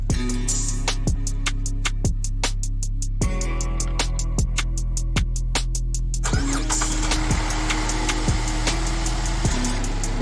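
A 2014 GMC Acadia engine cranks and catches, then settles into a steady mid-pitched idle with a regular ticking rhythm, close and fairly loud, no talking.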